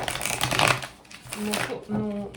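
A deck of Osho Tarot cards shuffled up close in short riffling bursts, while someone talks over and between them.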